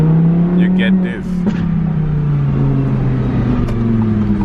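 An Audi R8 V10 Plus in performance mode revs loudly and close by, a steady, rising engine drone with a few sharp blips. Someone talks over it.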